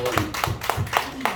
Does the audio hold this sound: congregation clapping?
yes